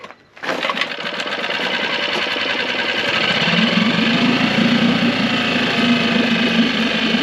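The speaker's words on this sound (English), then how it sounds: "Engine does fire right back up." A warm Mercury 6 hp four-stroke outboard fires up after a brief quiet moment and settles into a close, steady, buzzing idle that holds evenly to the end.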